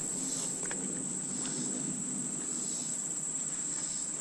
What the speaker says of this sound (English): A lot of frogs in here.